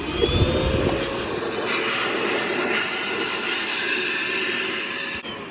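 Steady loud suction roar from a vacuum hose cleaning a Yamaha 225DX Tri-Moto three-wheeler, a constant hissing whoosh that cuts off abruptly near the end.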